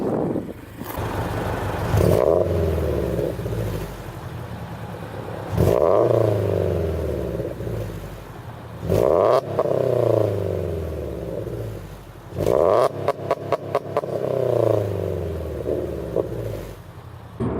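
Subaru BRZ fitted with an Invidia N2 exhaust, parked outdoors, given four quick revs from idle, each a loud rising roar that drops back to a burbling idle, the last followed by a rapid crackling stutter.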